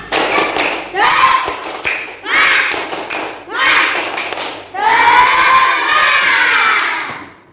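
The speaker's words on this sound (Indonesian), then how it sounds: "Satu kali lagi." Young third-grade pupils repeat the 'tepuk semangat' clapping chant in class, a loud sequence of rhythmic clap-and-shout phrases from the whole group, closing with a long collective cheer.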